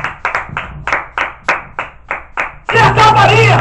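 Church congregation clapping along to a pastor's call for applause, several sharp spaced claps in a rough rhythm before a dense burst of crowd noise and voices swells at the end.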